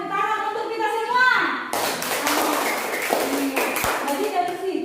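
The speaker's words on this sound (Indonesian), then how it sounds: "tepuk tangan untuk kita semua" Students in a classroom clapping their hands together in a burst of applause lasting a few seconds, following a teacher's spoken voice, with talking resuming at the end.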